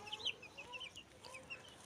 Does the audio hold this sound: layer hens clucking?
yes